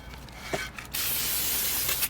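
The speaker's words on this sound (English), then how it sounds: "You want to take some brake clean, spray that off" A steady spray of aerosol brake cleaner hisses close up for about a second onto a rear brake part of a Ford Fusion, preceded by a few light handling clicks.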